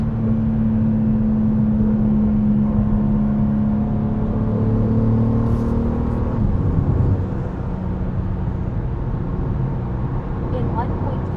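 Engine of a 2026 BMW M2 heard from inside while driving, a loud, steady droning growl with a rising and falling whine, continuous throughout without talk.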